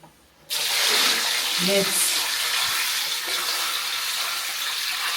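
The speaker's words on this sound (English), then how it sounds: "So I want to add water inside the meat." Water pours steadily into a pot of goat meat, a continuous splashing rush lasting several seconds, close and fairly loud after a brief quiet start.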